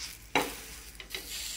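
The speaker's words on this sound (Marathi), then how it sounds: "थालीपीठ दोन्ही बाजूनी व्यवस्थित भाजून घ्यायचं" A thalipith flatbread roasting in a pan, with a soft steady sizzle broken by a couple of brief scraping or turning sounds, close and fairly quiet, with no talking.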